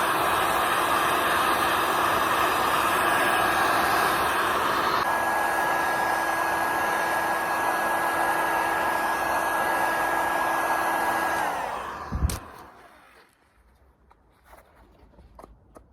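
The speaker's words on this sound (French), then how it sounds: "je vais me servir d'un pistolet d'air chaud" A heat gun blows steadily and loudly on the crankcases of a Peugeot 103 moped engine, a constant airy roar with a faint whine, then cuts off near the end, leaving a quiet workshop.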